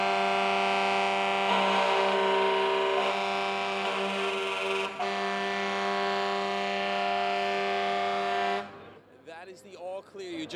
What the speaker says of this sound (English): what we're hearing now are now horns telling all firefighters to get out if they were inside